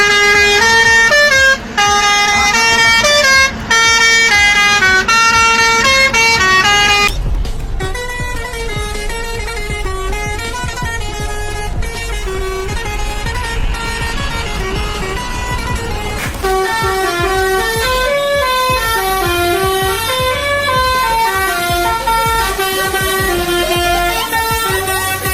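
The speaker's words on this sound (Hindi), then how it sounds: "इस वीडियो में हम सुनेंगे ट्रकों के मजेदार हॉर्न" Decorated trucks sounding novelty musical horns, a loud continuous run of melodic honks and tune-like toots changing pattern throughout, close and unbroken, with no talk.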